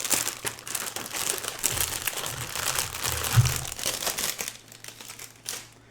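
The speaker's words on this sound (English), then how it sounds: "Just so my voice isn't competing with the crinkling wrappers and whatnot" Plastic food wrappers crinkle and crackle close by in rapid irregular bursts, fairly quiet, continuing for several seconds before tapering off.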